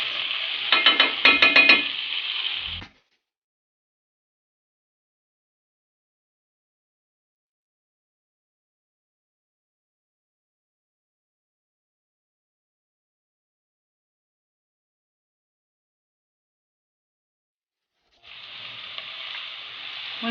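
Spoonful of canned tomato paste frying with wilted onions in a pot, a brief stirring sizzle at the start, then long silence before the sizzle returns near the end.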